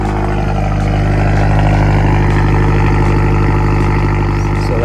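A Toyota FRS idling with a custom, mostly 3-inch stainless steel exhaust, a loud, steady low drone with a fixed throbbing rumble held close and constant throughout, no voices.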